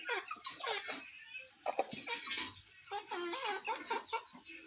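Silkie bantam chickens clucking and chattering close by, several birds calling over one another in continuous, busy bursts.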